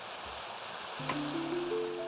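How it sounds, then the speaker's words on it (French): Steady hiss of rain falling in a survival video game, a constant broadband patter throughout, with a few faint tonal game sounds rising in near the end. "Ouais, qu'elle me pète le crâne là, la pluie là."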